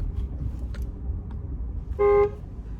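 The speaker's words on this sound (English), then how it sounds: "let me honk" A single short car horn honk sounds clearly near the end, following a few faint thumps and quiet background noise.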